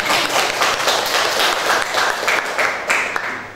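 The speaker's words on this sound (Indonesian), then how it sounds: "Bagus sekali jawabannya, tepuk tangan" Classroom applause from students at an Islamic junior secondary school rewarding a good answer, a dense steady patter of many hands clapping close by for a few seconds, tapering slightly at the end.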